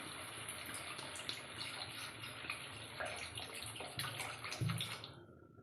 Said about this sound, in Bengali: তারপর তাপ বাড়ি দিয়ে আমি এখানে হাফ লিটার মতো জল দিয়ে দিলাম